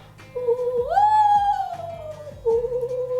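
A person imitates an eastern screech owl's whinny call, a tonal, wavering whistle that rises then descends in a quavering slide, repeated briefly near the end.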